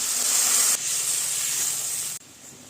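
Water hits a hot pan of potatoes and spices, bursting into a loud, close hiss of steam that holds steadily, dips briefly and cuts off sharply at the end.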